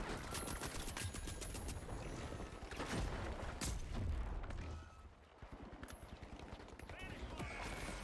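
Rapid bursts of automatic gunfire crackle in a match of The Finals, fairly faint and mixed with mechanical clatter and a few heavier booms, with a player talking over parts of it.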